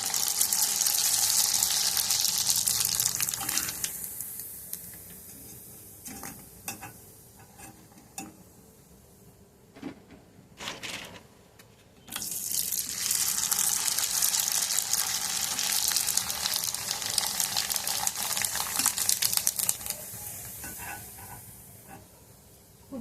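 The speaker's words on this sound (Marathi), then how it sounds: "थोडी गॅसची फ्लेम कमी करूया अजून एक दोन तळून दाखवते" Sabudana (sago) papad frying in hot oil on a gas stove, loud bursts of bubbling sizzle that fade to a quiet simmer with small crackles, then surge again as another papad goes in.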